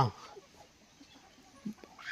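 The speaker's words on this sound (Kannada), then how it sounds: "கரிமத்த கோழிகளா" Native country chickens cluck in a few short, soft bursts near the start, middle and end, over a quiet farmyard background.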